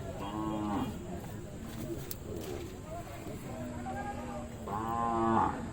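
At a crowded cattle fair in Magadi, cows low in drawn-out harmonic moos, one near the start and a louder one near the end, over a dense murmur of voices and fair noise.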